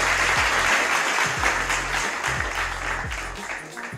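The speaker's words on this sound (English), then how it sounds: "Let me clap it up for you." Clapping from an online community event, a dense broadband patter of hand claps sustained for about four seconds over a low hum, with faint background sounds underneath.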